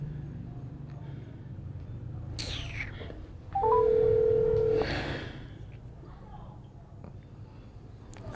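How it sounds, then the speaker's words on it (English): A telephone gives a single steady electronic ring burst lasting about a second, amid muffled room sound and brief voices in a tense scene. "Answer the phone"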